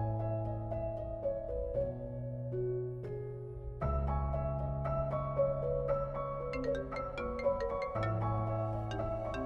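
A phone rings with a melodic ringtone, a sequence of clear electronic notes that repeats steadily and stays fairly quiet with no talking.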